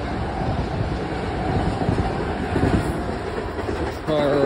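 A Concord train passing on rails, a loud, close, continuous rumble with rhythmic clickety-clack of wheels over the track, ending with a brief metallic squeal; no talking.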